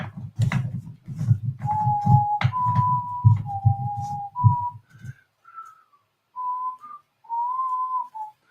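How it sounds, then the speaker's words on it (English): A person whistles a melody of sustained notes, first over low background chatter and rumble, then alone with short pauses between phrases. "He's whistling."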